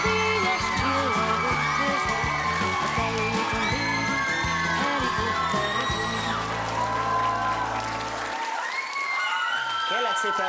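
A television studio audience screams, whoops and applauds loudly and continuously at a Hungarian game show's St. Nicholas Day special, with excited shrieks rising and falling, then cutting off abruptly near the end.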